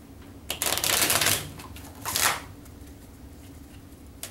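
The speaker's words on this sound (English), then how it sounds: "I'm just shuffling the cards." A deck of playing cards is shuffled close by in two quick riffling bursts, the first longer, followed by quiet.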